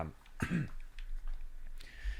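A man on a podcast coughs or clears his throat once, a short burst near the mic that stands alone, with no talk over it.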